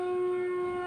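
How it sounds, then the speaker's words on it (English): A conch shell blown during home worship in India gives a steady, sustained horn-like tone with strong harmonics, holding level throughout without pause. "and that's the conch shell."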